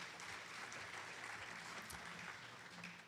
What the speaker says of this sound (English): A round of applause for our first contestants.